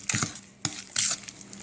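Stiff rolled sugar cookie dough being stirred in a bowl: a few short scraping, knocking strokes close by, with brief pauses between them and no talking.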